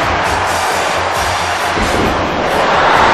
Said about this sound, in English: Great chant going off from this capacity crowd